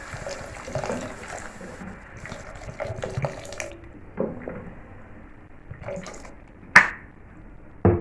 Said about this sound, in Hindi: पानी डालेंगे ताकि ये अच्छे से सॉफ्ट हो जाए मटर।